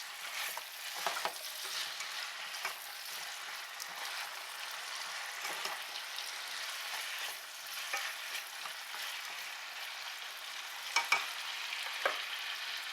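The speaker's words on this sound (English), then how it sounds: "I'll stir those up." Seasoned potatoes with salt and a little sugar being stirred as they fry in a pan on high heat, a steady close sizzle with scraping stirs throughout.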